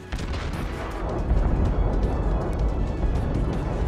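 Naval gunfire booms in the World of Warships game, a steady stretch of heavy, rumbling artillery fire and explosions that thickens partway through, with no talking over it.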